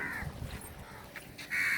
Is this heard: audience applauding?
no